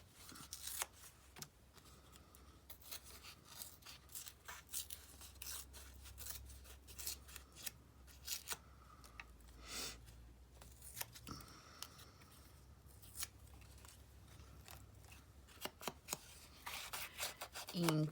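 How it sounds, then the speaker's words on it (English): Paper is torn and snipped with scissors for a paper craft project, giving close, irregular ripping and cutting bursts that repeat steadily throughout at a soft level. "Again, we'll tear it."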